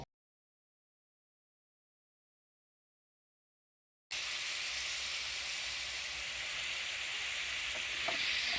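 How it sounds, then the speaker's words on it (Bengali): Spice paste frying in a pan with cinnamon and cardamom, a steady dense sizzle and hiss that starts abruptly after four seconds of silence and continues evenly, close and alone. "একটু ভাজা ভাজা হলেই আমরা পেস্টটি দিয়ে নেব।"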